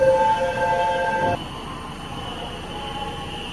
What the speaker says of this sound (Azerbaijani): Yəni qatar birdən-birə dayandı.